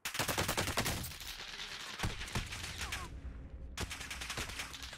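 A Vanguard assault rifle fires in rapid automatic bursts in Warzone Pacific, with loud close rattling volleys, brief pauses between strings of shots and a final burst near the end.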